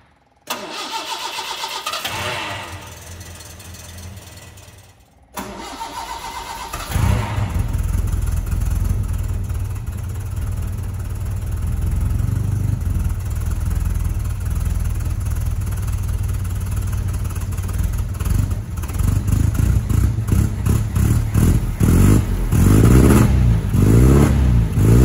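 A Series 5 Sunbeam Alpine's engine cranks on a cold start, stumbles, then catches and settles into a loud, steady idle, with occasional revs rising toward the end.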